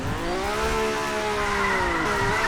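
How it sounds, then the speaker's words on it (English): Car tires squeal in a long rising and falling whine over a steady engine drone while a vehicle drifts through a turn in the Roblox game Mad City, loud and close, with the squeal easing near the end. "As for drifting, it seems alright."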